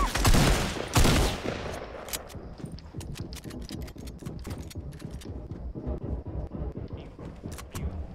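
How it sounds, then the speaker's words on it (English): Rapid bursts from a Fortnite drum gun rattle in dense, repeated volleys, loudest at the start and then continuing as steady spammy fire at close range, with no talk. "the drum gun is so spammy"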